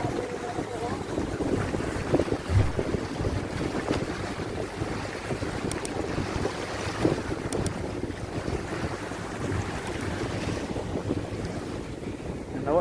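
Fishing boats out at sea off Aceh, a steady low engine drone mixed with wind buffeting the microphone and the wash of waves, continuous and fairly close, with no clear voices.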